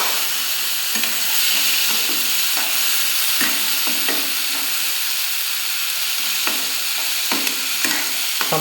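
Boiled chickpeas fry in a pan with a little leftover water, a steady loud sizzle and hiss broken by scraping spoon strokes as they are stirred, close and without voices.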